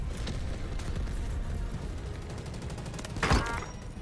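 A multi-rocket launcher fires in the Delta Force video game, one whooshing, booming launch rising out of a dense, continuous wash of battlefield noise and rumbling gunfire.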